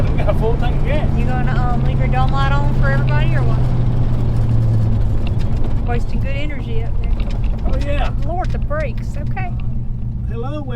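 A 1957 Chevy with new exhaust and freshly adjusted brakes cruising on a highway, a steady loud engine drone and road rumble filling the cabin, with people talking continuously over it.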